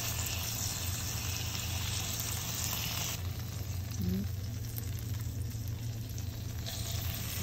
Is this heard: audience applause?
no